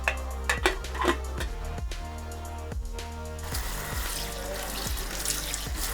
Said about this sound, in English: Now my lovely fiance is cleaning all the vegetables